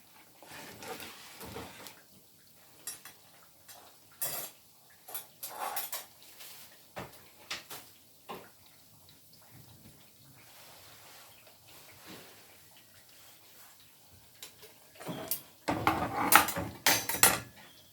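Kitchen cleanup after cooking plantains, with dishes, pots, pans and cutlery clinking and clattering in irregular bursts, some quiet gaps, then a louder run of clanking and running water near the end, close by.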